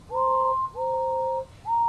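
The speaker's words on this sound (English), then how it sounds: "They whistled and tooted in excitement." Toy train engines give three steady two-tone whistle blasts, each held about half a second or longer, clear and fairly close with no talk over them.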